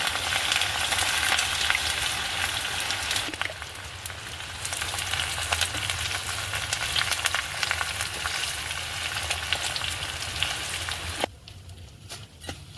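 Washed curry leaves frying in oil on low heat for homemade hair oil, a steady close crackle and sizzle with occasional stirring, dropping to a quieter hiss near the end.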